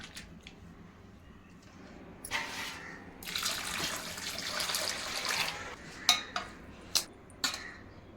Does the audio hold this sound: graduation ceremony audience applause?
no